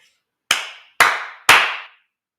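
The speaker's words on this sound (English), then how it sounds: "my office has such a wonderful echo from when I clap" Three sharp hand claps ring out in an office, spaced about half a second apart, each one trailing off in a noticeable echo that fades before the next clap.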